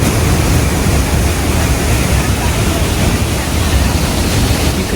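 A thunderous waterfall roars inside a mountain tunnel in the Swiss Alps near Wengen and Mürren, heard as a dense, loud, unbroken wash of rushing water that fills the whole clip.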